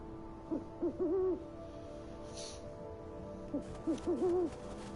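An owl hoots in the Never Alone video game, two clear bursts of several wavering hoots each, separated by a pause, over a soft steady ambient background.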